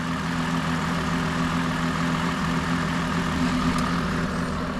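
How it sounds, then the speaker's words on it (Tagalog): A car engine idling steadily at close range, a constant low hum with an even mechanical drone and no voices. "Oh, ayan yung makina niya."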